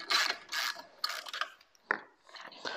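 Wrench loosening the screws that hold Rieco Titan jacks on a pickup truck camper's quick-release system: a few close ratcheting, clicking bursts with short pauses between them.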